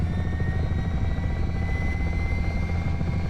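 An H-60 helicopter's engine runs in a flight simulator, a loud steady turbine whine over the constant thudding rotor drone, with no talking.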